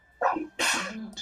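A close, loud sneeze in two bursts, a sharp inhaled catch followed by a forceful explosive release, with a brief vocal sound at the end.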